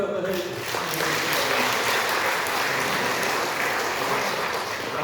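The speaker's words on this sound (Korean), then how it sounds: "격려의 박수 한번 해주세요." Steady, full applause from a church congregation, many hands clapping together in encouragement, continuous and close for several seconds.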